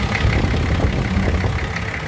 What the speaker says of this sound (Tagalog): Yan, nakaandar ang makina.